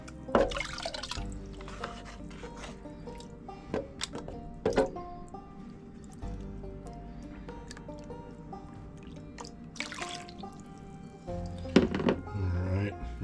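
Rinse water poured into a gold pan holding paydirt, with splashy drips and sloshes coming in uneven bursts, close and fairly quiet.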